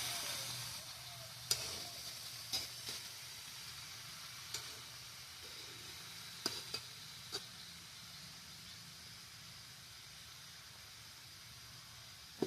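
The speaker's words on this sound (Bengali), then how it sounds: "এখন আমি একটু নেড়ে ছেড়ে জল দেবো, জল দিয়ে ঢাকা দেবো।" Bottle gourd with poppy seed (lau posto) cooks in a pan, giving a faint, steady sizzle with sparse light taps and scrapes from stirring.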